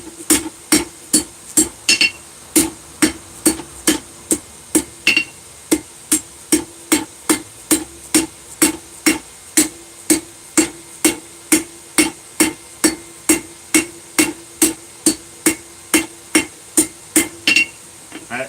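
Steady, evenly spaced hammer blows ring out on steel, around forty strikes drawing down the taper of a nail set on an anvil, loud and close with a bright metallic ping and no talk.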